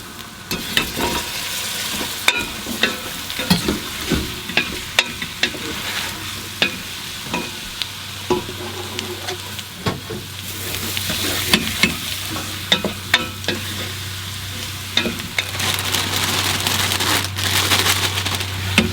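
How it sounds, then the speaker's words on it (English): Potatoes, then chili and spinach, fry in hot spiced butter, a steady sizzle punctuated by frequent sharp spoon scrapes and stirs, growing fuller toward the end with no speech. "I'm going to add my potatoes, and in a few seconds I'll add my chili and my spinach."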